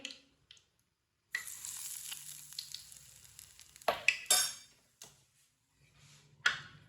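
Gram flour pakora batter being mixed in a bowl, with a spoon scraping and stirring in irregular bursts, some sharp clinks against the bowl and short pauses between strokes.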